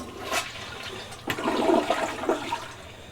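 A freshly repaired toilet flushes once, close and fairly loud: a sharp release, then a rushing swirl of water that drains and refills steadily for a few seconds.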